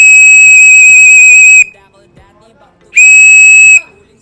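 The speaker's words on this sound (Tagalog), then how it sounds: "So, kunin ko na yung pito." A shrill, loud whistle is blown in two long blasts, the first about one and a half seconds and the second shorter after a pause, as racing pigeons return to the loft.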